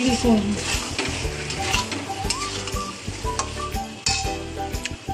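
Potatoes sizzle as they are stirred through a spice mix in a pan, with a spoon scraping and clinking against the metal in an uneven rhythm, loud and close.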